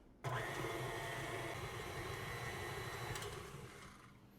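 An electric mixer beats butter, sugar and a teaspoon of vanilla for thumbprint cookies, whirring steadily and alone from a sudden start, then tapering slightly at the end.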